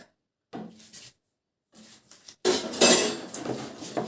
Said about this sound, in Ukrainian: Ну що ж, ще раз все перемішаємо добре, так?